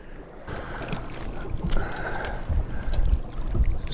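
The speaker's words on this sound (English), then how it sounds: "his lovely little park ranger boat" A small aluminum park ranger motorboat hums steadily over wind and lapping water, its engine drone growing slightly louder as it comes closer.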